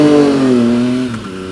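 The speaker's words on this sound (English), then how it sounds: "Hear that popping?" A car engine revs with exhaust popping, a loud, close roar whose pitch slides slightly downward before easing off, with faint crackle as it settles.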